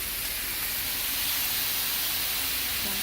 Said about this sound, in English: Okay, I've got my sausage in the pan.